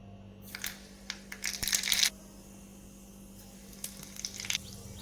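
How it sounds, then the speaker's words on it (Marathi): Cumin and mustard seeds crackle and sizzle in hot oil in a small tadka pan for a Maharashtrian gavar thecha, in two short bursts of sharp popping spatter separated by quieter moments. "आता तेल गरम झालेलं आहे आता आपल्याला त्याच्यामध्ये जिरी मोहरी टाकून घ्यायची आहे"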